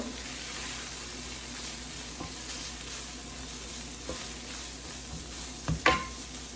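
Ground meat mixed with chili seasoning sizzles steadily in a pan, fairly faint, with a few soft scrapes and clinks from stirring near the end.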